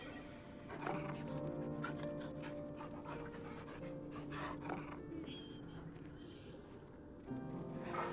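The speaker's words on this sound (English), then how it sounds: "It's a dog." A dog in the Final Fantasy 16 game pants steadily with soft whimpers over a continuous backdrop of game music, the breathing held close and moderately quiet throughout.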